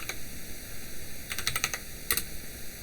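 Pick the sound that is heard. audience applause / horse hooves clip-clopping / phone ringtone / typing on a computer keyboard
typing on a computer keyboard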